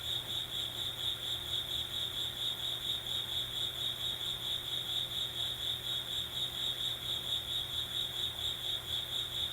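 A cricket chirps steadily and continuously, a fast even trill that is faint but clear against quiet surroundings, with no voices.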